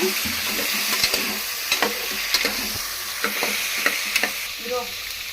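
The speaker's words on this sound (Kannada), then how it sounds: "ಫ್ರೈ ಆಗಿದೆ ಬೀನ್ಸ್ ಹಾಕ್ತಾಯಿದ್ದೀನಿ ಇದು ಗೆಡ್ಡೆಕೋಸು ಕ್ಯಾರೆಟ್ ಫ್ರೈ ಮಾಡೋಣ" Kohlrabi, carrot and beans fry in a pan with a steady, close sizzle, punctuated by repeated scrapes and clinks of stirring, with no voices.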